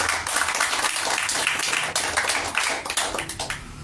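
A church congregation applauds during a sermon, a burst of many hands clapping that swells quickly, holds for a few seconds, then thins out toward the end.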